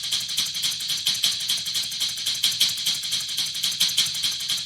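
Drum top loop in an ambient drum-and-bass/breakcore track with guitar amp distortion, a bright, dense, hissy stream of fast hi-hat-like hits pulsing steadily, loud and alone.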